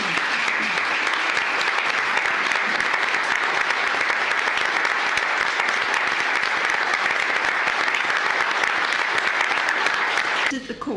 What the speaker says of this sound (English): could you stand up so we can give you a round of applause?